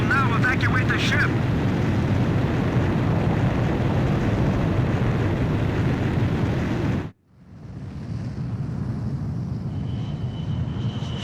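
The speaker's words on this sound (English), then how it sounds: "Aircraft launch confirmed." A fighter jet roars off an aircraft carrier's catapult in the Ace Combat 5 video game, with a loud sustained engine rush that cuts out abruptly and returns as a lower rumble, with a radio voice over it.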